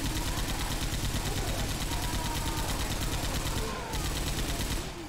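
Rapid automatic gunfire in the video game Left 4 Dead 2 rattles on loudly and continuously for about five seconds, a dense stream of shots that briefly breaks near the end.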